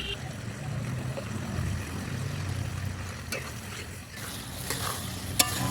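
Pui (Malabar spinach) stems and leaves are stirred and fried in fish oil, a steady low sizzle with scraping stirs throughout, ending in a couple of sharp utensil clinks.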